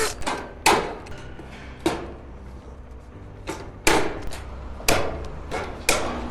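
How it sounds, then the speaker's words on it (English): Pop rivets being fastened into steel gutter sections on an Absco single compact garage shed: a series of about six sharp, close metallic snaps at uneven intervals, with quiet handling noise between them. "drill and put a couple of rivets in there"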